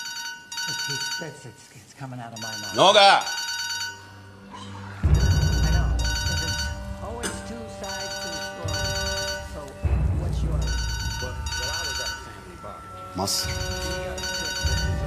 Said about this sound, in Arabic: موبايلك بيرن